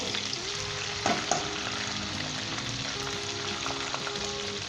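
Garlic frying in oil in a pan, with a steady broad sizzle throughout and a couple of brief utensil clinks from stirring near the start, close and fairly loud, no voices.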